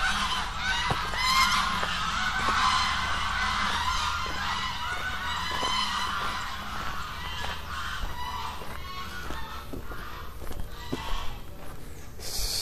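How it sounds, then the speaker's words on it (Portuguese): Repeated loud honks from a group of tame geese at a campground in Itu, Brazil, close by, calling in irregular bursts over a steady outdoor background. "Nós temos aqui também muitos gansos."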